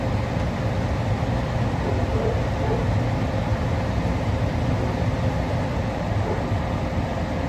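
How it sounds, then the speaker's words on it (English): A gas furnace burning natural gas after its surface igniter lights the burners, giving a steady, even broadband roar with a low rumble that holds without pause. "This time, the surface igniter lights up the natural gas and the heating cycle can continue."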